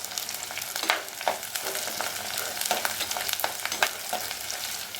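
Garlic cloves and green chillies sautéing in hot oil in a pan for a seer fish curry, a busy close sizzle with crackles and stirring clatter, no talking.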